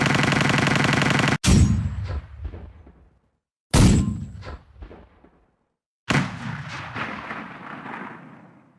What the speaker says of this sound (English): The tank variant of the Schwach 20mm Russian cannon, which was often placed on the T-38 and the T-60.